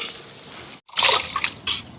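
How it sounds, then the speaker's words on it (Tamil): Rice being washed in water: sloshing, splashing water with a brief break before louder swishing bursts, close and fairly loud. "அரிசியை கழுவி எடுப்போம் பாருங்க"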